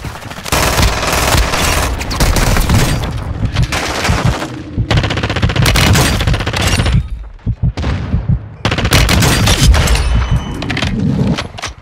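Call of Duty Warzone gunfire, loud sustained automatic bursts and rapid shots with heavy booms, broken by brief pauses and continuing almost without break.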